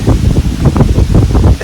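Strong wind buffeting the microphone, a loud continuous low rumble with gusty surges throughout.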